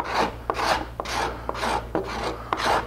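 A sharp gooseneck scraper scoops the seat of a wooden chair in about six even, rhythmic rasping strokes, close and distinct, with no voices.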